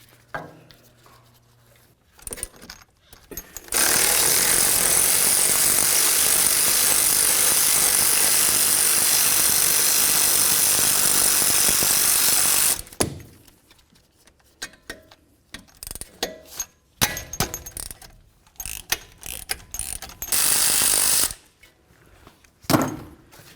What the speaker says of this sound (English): we're going to use an 8mm Allen head socket to remove both of these